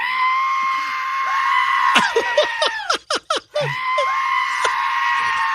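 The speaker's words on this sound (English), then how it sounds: "That screaming goat Yes. video that went viral years ago." A goat screams in a series of loud, strained, human-like cries, with short broken bleats in the middle and longer wails at either end.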